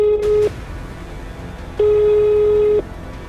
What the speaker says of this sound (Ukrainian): Ми безліч разів набирали фігурантів на телефони та писали їм повідомлення.